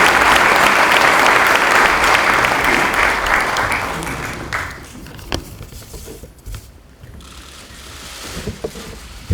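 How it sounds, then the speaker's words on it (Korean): Applause at a Korean National Assembly caucus meeting: loud, dense clapping for about four seconds that dies away, leaving a quieter room with scattered bumps and murmurs. "뜨거운 박수 부탁드리겠습니다"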